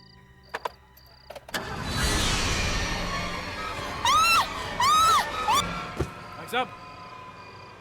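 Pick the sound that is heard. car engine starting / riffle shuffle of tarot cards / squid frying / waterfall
car engine starting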